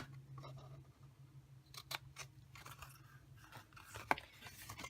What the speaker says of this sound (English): So now we will bring in some scissors, and you can get rid of this little piece right here up to the second score line.